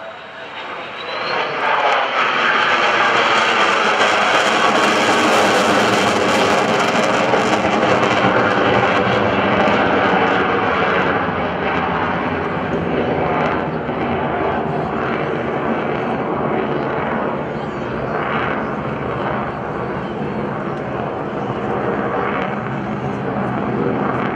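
An F-16 Viper jet makes a fly-by at an airshow, its engine a loud, sustained roar that swells quickly and then slowly fades as the aircraft passes, with an announcer's voice faintly underneath.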